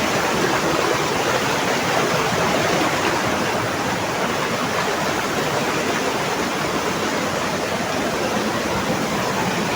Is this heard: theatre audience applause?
no